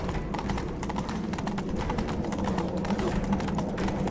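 Galloping horse hooves in The Witcher 3 on PC beat out a continuous, rapid, close clatter at steady loudness over a low rumble, with no pause throughout.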